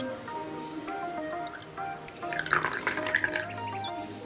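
Liquid pours into a homemade vinegar and baking soda lava lamp, a faint trickle and splashing drips rising for about a second amid quiet indoor background.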